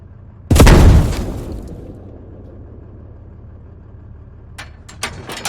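A cannon round explodes in the video game Squad with one loud, close, booming blast that rumbles and decays over about a second, followed by a low hum and a few faint clicks.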